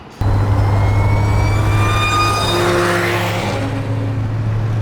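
Supercharged V6 in a modded Audi S4 revving hard beside a Dodge Challenger SRT, a loud steady engine roar with a rising whine layered on top, sustained and close throughout.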